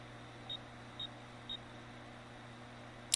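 Three evenly spaced short electronic beeps, about half a second apart, sound in the horror game Next Week at Freddy's over a low steady hum, ending with a brief click and no voices.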